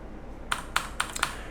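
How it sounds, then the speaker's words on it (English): Four crisp, evenly spaced clicks from a computer keyboard sound close and alone, each a sharp keystroke in a quick short burst. "if you press the T key on your keyboard"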